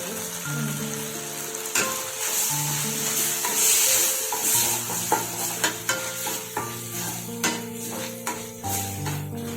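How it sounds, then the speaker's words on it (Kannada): Tomato and onion fry with turmeric in a pan for egg masala, a bright continuous sizzle with regular spatula scrapes and taps, while steady tonal sounds run underneath. "ಟೊಮೆಟೊ ಎಲ್ಲ ಈರುಳ್ಳಿ ಎಲ್ಲ ಫ್ರೈ ಆಗ್ತಿರುತ್ತೆ"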